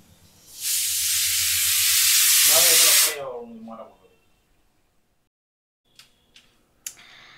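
A pressure cooker of mutton and potatoes on a gas flame releases a loud, close burst of hissing steam lasting a few seconds, which cuts off and is followed by near silence and a few faint ticks.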